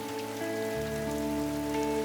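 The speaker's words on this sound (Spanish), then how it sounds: "antes de desencadenar rayos, granizo y breves aguaceros torrenciales." Torrential summer thunderstorm rain pouring down in Yellowstone, a steady dense hiss of drops on surfaces with a low hum underneath, continuous and close throughout.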